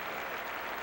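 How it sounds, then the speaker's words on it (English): Large stadium crowd cheering and roaring during a 1982 5000 meter track race, a dense, steady wash of applause and voices filling the whole moment at even loudness. "listen to the crowd"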